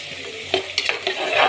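Pulihora mixture with tomato stirred in a sizzling pan, with a few scraping strokes and light clanks of a spoon against the pan over a constant close frying hiss.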